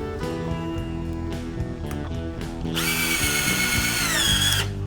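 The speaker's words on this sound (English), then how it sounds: "I'm going to put about 4 good screws in this particular board on each leg" A cordless power drill drives screws into a wooden leg board of a picnic table, its motor whining and rising in pitch as it speeds up, loud and close, with no talk.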